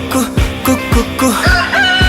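Loud rooster-like crowing calls repeat in a quick rhythm, roughly every 0.4 seconds, inside a Bhojpuri song.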